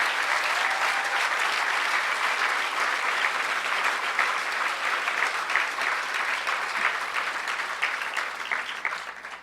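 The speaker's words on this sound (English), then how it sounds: "So I think we should give a round of applause to Emmanuel and 2600." Applause from an audience at the HOPE hacker conference, a dense, sustained crowd of clapping that stays loud for several seconds and then slowly tapers off near the end.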